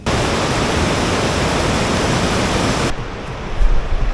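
A mountain river on the Bandarpunch expedition route in the Himalayas rushes with a loud, constant roar of whitewater, close by and steady, then abruptly drops to a quieter flow near the end.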